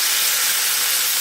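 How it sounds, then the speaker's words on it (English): Pot roast meat sizzles while browning in a pan, a loud, steady, hissing crackle that holds without a break. "this is a little bit loud, but the meat is sizzling away."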